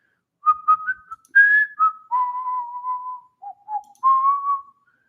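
A person whistles a short, wandering melody of held and sliding notes, clear and close, with brief pauses between phrases.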